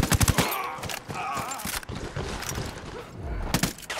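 Rapid bursts of gunfire crackle through a firefight in the tactical shooter Ghost Recon Wildlands, loud and close, with a dense volley at the start and another near the end, and sparser shots between them.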